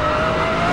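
Pagani Zonda race car engine droning steadily at Nordschleife in the Assetto Corsa racing game, a loud, continuous hum holding a single even tone with no talk.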